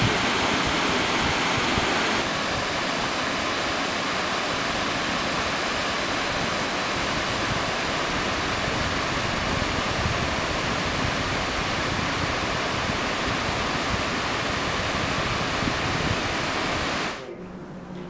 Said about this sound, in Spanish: pudimos comer con las cascadas de fondo